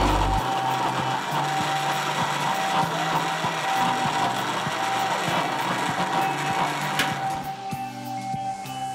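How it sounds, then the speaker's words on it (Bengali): A blender whirs steadily as it blends garlic sauce with oil in a home kitchen, a loud continuous motor drone that holds for several seconds and eases slightly near the end. "এবার সব তেল ঢেলে দিচ্ছি। আবার একটু সময়ের জন্য ব্লেন্ড করে নিচ্ছি।"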